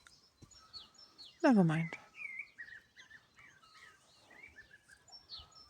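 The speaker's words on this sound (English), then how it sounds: "It was a blackbird." Blackbird singing outdoors in spring, soft fluttering warbles and chirps at a distance, with one loud, sudden close sound briefly cutting in and a person speaking quietly.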